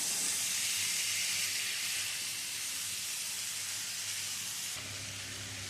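Spices frying in oil in a pan for a light, low-oil vegetarian curry, giving a continuous close hiss and sizzle that dips slightly near the end.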